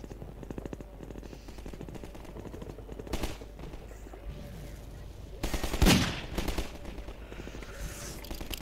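Automatic gunfire in the video game Half-Life 2: bursts of rapid shots run through the clip, with a louder, sharper volley near the middle that stands out above a steady background of game noise.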